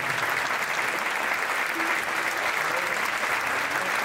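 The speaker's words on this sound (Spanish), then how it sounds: "Un aplauso, che, para estos músicos." An audience applauds musicians at a tribute concert, a steady, dense wash of clapping that holds at an even level throughout, with a few faint voices under it.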